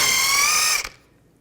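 A power tool with a 19mm socket spins the nut off an outer tie rod end on a 2006-10 Volkswagen Jetta, a loud steady whirring burst close by that cuts off abruptly and then trails into quiet.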